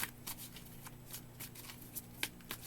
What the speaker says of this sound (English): do I need to pull more tarot cards now?